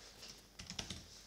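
Keystrokes on a computer keyboard while a field name is entered in an online survey form builder: a short burst of four or five soft, close clicks after a brief quiet pause.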